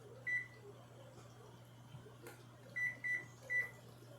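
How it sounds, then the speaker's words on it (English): A microwave oven cooking potatoes gives a low, steady hum throughout, with a short beep near the start and three beeps close together near the end, all fairly faint and alone. "Got the potatoes cooking in the microwave."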